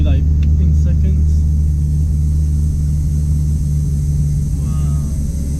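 A 700bhp Nissan Skyline on the move, heard from inside as a loud, steady low engine drone and road rumble throughout.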